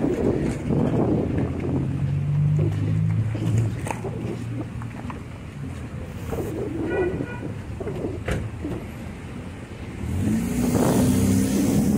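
City rush-hour traffic in standstill conditions, heard while running in the evening: a continuous loud rumble of engines and tyres with passing vehicles and occasional horn-like tones.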